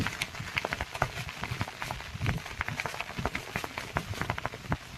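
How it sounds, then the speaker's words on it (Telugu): Cyclone winds and rain lash an open field, a steady wash of rain and gusting noise with irregular close thumps and patters throughout. "వాన చూడండి ఎలా వస్తుందో, గాలి చూడండి ఎలా వస్తుందో"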